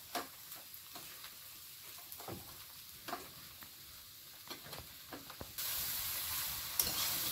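Soybean chunks being fried with turmeric and chili powder: soft scraping stirs and light taps over a low sizzle, which swells into a loud, steady hiss near the end.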